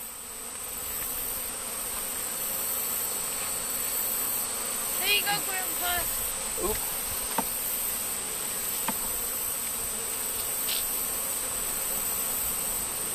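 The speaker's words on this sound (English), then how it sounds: "go ahead and spray some smoke on them bees that are on the honeycombs" Honeybees buzz around honeycomb during a hive transfer, a steady droning hum throughout, while people talk briefly partway through.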